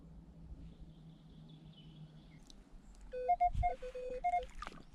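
A metal detector beeps a series of short electronic tones over a silver target, with quiet outdoor background and a low thump partway through.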